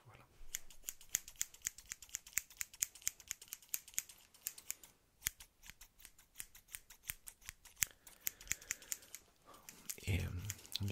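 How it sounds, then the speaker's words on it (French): Metal scissors snip in a fast, steady run of crisp close-up cuts as an ASMR trigger, the blades clicking over and over with brief pauses, ending in a louder rustle. "pour moi les ciseaux c'est une valeur sûre"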